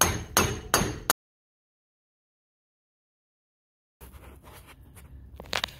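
Hammer blows separating the lower ball joint on a 1996–2000 Honda Civic, three sharp metallic strikes close up, followed by silence and then fainter knocks and clatter.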